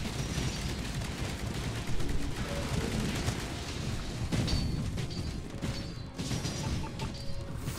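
Gunfire in the Titanfall beta video game on Xbox One, dense bursts of shots and crashing impacts throughout, loud and continuous with a few sharper cracks standing out.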